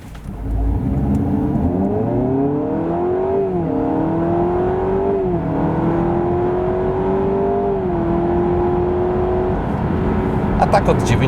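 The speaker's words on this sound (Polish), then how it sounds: "tak Prelude przyspiesza od 0 do setki" Honda Prelude 2026 2.0 hybrid (184 hp) accelerating hard from standstill to 100 km/h, engine note rising steadily through a few stepped gear-like shifts, loud and continuous throughout with a brief clatter near the end.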